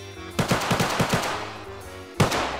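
Rapid automatic gunfire in Garry's Mod DarkRP: a loud burst of about six quick shots, a pause, then a single sharp shot near the end, with no talk.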